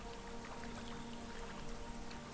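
Rain falling straight onto the surface of a lake at a Finnish spa, a soft, even patter of many small drops, quiet and continuous with no voices.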